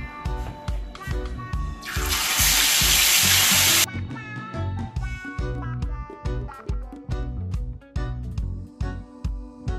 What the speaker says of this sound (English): it's time now to start the frying of our fish.